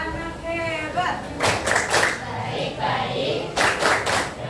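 Children clap along in a rhythmic class chant, loud bursts of clapping coming in short groups between sung or spoken lines in a classroom.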